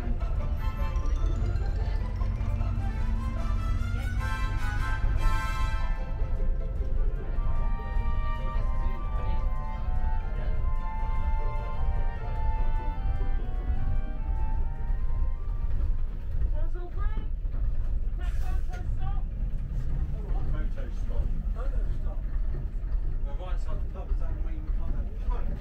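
A restored King Alfred heritage bus runs in Winchester with a steady, rumbling engine note and a whining gear tone that rises and falls, heard under someone talking.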